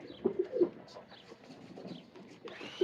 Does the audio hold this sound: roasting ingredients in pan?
no